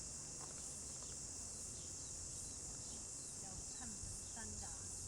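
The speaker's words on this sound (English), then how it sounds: "you can hear the noise of the cicadas. Very noisy indeed." Constant high-pitched buzzing drone of cicadas in New Zealand's Bay of Islands filling the background, steady and fairly faint, with a few soft bird chirps scattered through.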